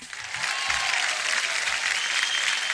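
An audience at a Sattriya dance event bursts into loud, sustained applause that swells quickly and continues steadily, with a faint voice at the very start.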